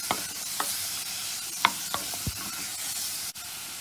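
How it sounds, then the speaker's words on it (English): Mixed vegetables including broccoli, cauliflower, green beans, peas, carrots and corn sauté in a pan with a soft steady sizzle and a few sharp stirring clicks and scrapes, with no talking. "So we're just going to saute this a bit."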